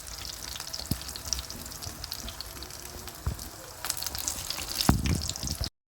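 Chapli kebabs fry in a pan of hot oil, a dense continuous sizzle close up with scattered pops and a few louder spatters toward the end, no talking over it.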